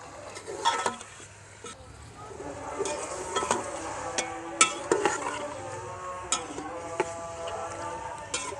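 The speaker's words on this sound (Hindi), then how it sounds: "अब ये 1 किलो मटन है, ये इसमें शामिल करूंगी और इसका हम कलर चेंज होने तक इसको फ्राई करेंगे।" A kilo of mutton fries in a pot with roasted whole spices, a quiet sizzle under intermittent stirring knocks and clinks of a utensil against the pot.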